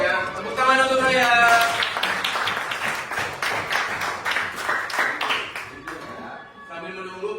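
Classroom applause for a student called forward to lead the anthem, the clapping loud and close at first, then continuing as a scattered, lively patter while voices talk over it.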